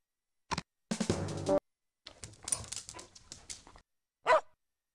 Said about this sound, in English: Pembroke Welsh Corgi